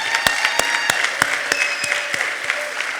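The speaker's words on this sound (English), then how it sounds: "Let's give one more round of applause for everybody" Audience at an African fashion show clapping in a sustained, dense round of applause, with a few sharp individual claps standing out near the recorder over the crowd's wash.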